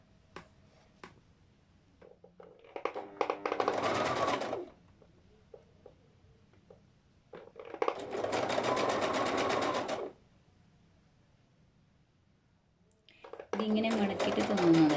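Sewing machine stitching fabric folded twice over, running in three separate bursts of steady whirring separated by quieter pauses, with a person talking between runs at a tailoring class.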